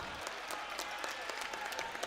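Crowd applauding at a futsal match in Italy's Serie A2 Élite, Pordenone against MestreFenice, a steady faint patter of clapping running through the whole moment.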